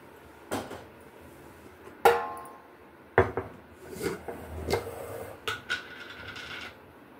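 Veg besan bhurji being mixed with coriander and onion, with a spoon clattering and knocking against the cookware in irregular bursts and scraping in between, close and moderately loud with no talking.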